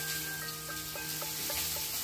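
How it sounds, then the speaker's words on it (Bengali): Chopped onions frying in mustard oil in a pan, a steady close sizzle with a few soft clicks of a utensil scraping the pan. "সর্ষের তেলে সব থেকে আগে পেঁয়াজ কুচি দিয়ে দিতে হবে।"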